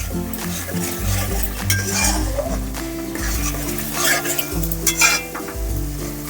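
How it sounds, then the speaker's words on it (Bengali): Spice paste with Kashmiri chilli sautéing in oil for a whole cauliflower dish, a steady close sizzle with stirring scrapes and light clinks of a utensil against the pan, no talking. "দিয়ে আরও ভালো করে আমি কষিয়ে নেব"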